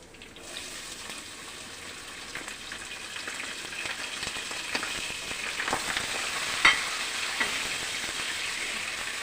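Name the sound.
chopped onion frying and being stirred in pan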